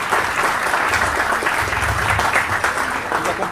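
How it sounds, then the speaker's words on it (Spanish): An audience claps after a panel presentation, a dense, continuous round of applause at steady strength, with a faint murmur of voices underneath. "Así que a todos un aplauso y muchísimas gracias por la presentación."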